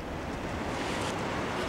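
Ocean waves at a beach, a steady broadband rush of surf with some wind noise, continuous and moderately loud with no voices.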